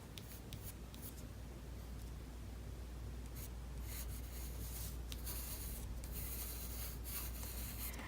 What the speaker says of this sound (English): Lightly sketching.